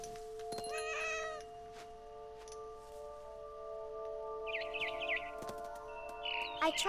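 A cat meowing in the video game What Remains of Edith Finch, with a drawn-out meow early on and shorter cries later, mixed with bird chirps over a steady humming background.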